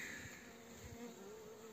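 Honey bees hum steadily in a continuous faint buzz at a weak wintered hive in a forest apiary, with no voices.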